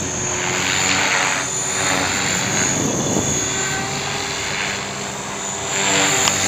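A cheap ten-dollar Hobbyking RC helicopter flies nearby, its small motor and rotor giving a steady, loud whine and buzz that swells and fades slightly with no pauses.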